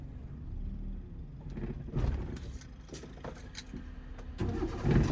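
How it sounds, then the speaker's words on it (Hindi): A car engine runs with the clutch held at half and light acceleration during a driving lesson, a low steady hum that swells a few times, with faint clicks and shuffles in the cabin. "हाफ क्लच के साथ हल्का सा एक्सीलेटर ले सकते हो"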